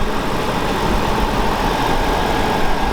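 The V12 engine of a BMW E38 750iL idles steadily up close, a constant rumbling hum with no voices.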